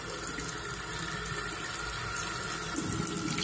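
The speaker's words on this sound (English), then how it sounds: "you fill it with hot water" Hot tap water runs steadily into a raw drinking horn, a continuous even splashing rush that stays close and unbroken.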